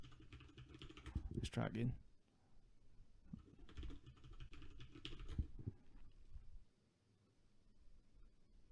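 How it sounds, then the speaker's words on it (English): Fingers typing on a computer keyboard to enter a password for an SSH login, with bursts of quick close key clicks, while someone talks over part of it. "I'll type in the password."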